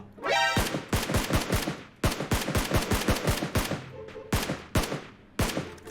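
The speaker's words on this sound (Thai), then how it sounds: "ว่ายิงกับใครอ่ะยิงกับบ้านเหรอ" Rapid gunfire crackles in PUBG Mobile, loud close bursts of several quick shots separated by brief pauses, with a few single cracks near the end.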